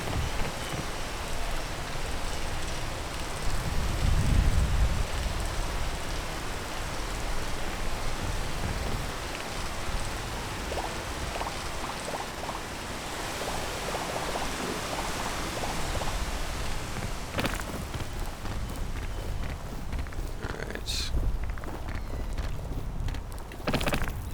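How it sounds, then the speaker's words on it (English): Steady rain hisses in the climbing video game Peak, an even, dense wash throughout with a few sharper ticks and taps near the end. "Rain came in to ruin all our fun."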